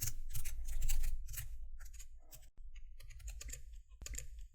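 Quick bursts of keystrokes clatter on a computer keyboard, close and fairly quiet, with short pauses between runs of typing and no talk.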